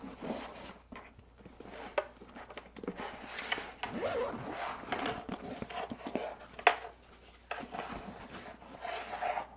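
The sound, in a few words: zipper on Nomatic 30L travel bag being zipped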